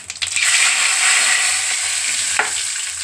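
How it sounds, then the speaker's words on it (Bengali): Whole cumin seeds and a bay leaf dropped into hot oil, the first tempering step for a Bengali coconut cabbage dish, hiss in a steady, loud sizzle that holds for about three seconds, with a brief clatter partway through. "এই জিরে ফোড়ন দিলাম"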